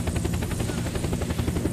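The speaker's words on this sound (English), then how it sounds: "take out this chopper right next to us" Helicopter in the video game Unturned, a loud, dense rotor thump pulsing rapidly and steadily, close and continuous with no talk.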